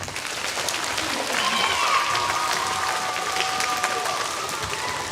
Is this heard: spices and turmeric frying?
no